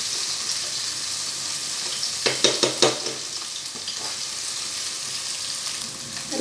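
Garlic and onion browning in a pan give off a steady close sizzle and hiss, with a quick run of a few spatula scrapes and taps partway through, with no talking.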